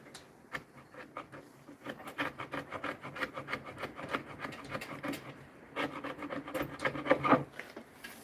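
A worn 80-grit sandpaper rasps back and forth across a wooden cabinet door in steady, close rubbing strokes that pause briefly, then resume.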